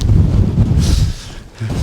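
Strong wind buffets the microphone on an upper ridge with a steady, loud low roar and rushing gusts, no voices.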